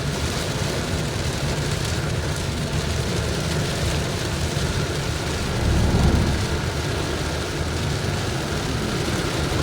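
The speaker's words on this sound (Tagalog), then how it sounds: "lakas ng ulan." Steady, dense roar of heavy rain during a drive fills the whole clip with constant broadband hiss, a low rumble swelling briefly near the middle; no voices.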